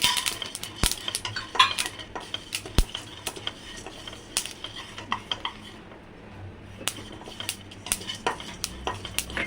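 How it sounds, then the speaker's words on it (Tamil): Sunflower and pumpkin seeds dry roasted in a pan, with sharp clinks and scrapes of a spatula against the metal in an irregular rhythm, close up, over a faint low hiss. "பூசணி விதை, எல்லாத்தையும் ஒன்றாவே போட்டு வறுத்துக்கலாம்."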